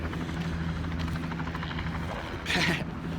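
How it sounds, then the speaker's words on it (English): Helicopter passing overhead, a low steady rotor hum with a faint rhythmic beat, moderately loud throughout with a brief brighter burst near the end. "Sorry for the super loud helicopter."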